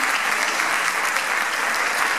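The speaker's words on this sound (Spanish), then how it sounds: "un aplauso para nuestra islandesa" Applause for an Icelandic runner at a trail-race favourites presentation, a dense, steady wash of clapping from a gathered crowd lasting the whole moment, with no speech over it.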